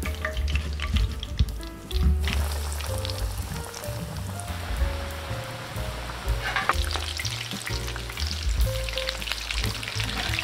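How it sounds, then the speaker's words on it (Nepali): Kurkure-coated chicken momos deep fry in hot oil, a loud, continuous close-up sizzle and crackle with bubbling and occasional stirring clatter throughout. "अब चाहिँ हामी सेकेन्ड ब्याचको मोमोहरू फ्राई गर्दैछौँ।"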